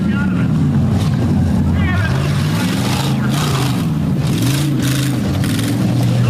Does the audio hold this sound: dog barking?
no